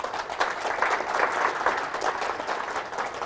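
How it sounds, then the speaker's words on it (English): An audience applauds a speaker who has just finished his PhD, a dense, steady clatter of many hands clapping that holds evenly throughout with no talking over it. "you can give him a round of applause for that"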